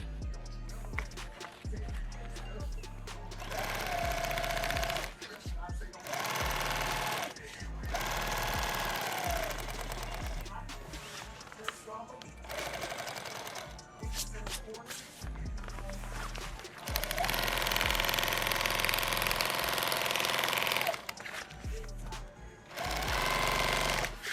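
Sewing machine tacking stitches on a rifle case, short bursts of rapid mechanical whirring and clatter that start and stop repeatedly, with quiet shop handling noise and faint talk between runs.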